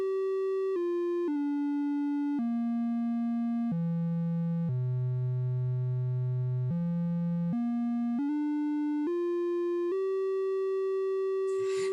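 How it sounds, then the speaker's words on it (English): A Micro:Bit program plays a buzzy, harmonic-rich electronic tone that steps down in pitch through several held notes, then climbs back up to the high signal-strength note, steady and loud throughout with no talking. "So now if I play this program, you can hear we've got that hum."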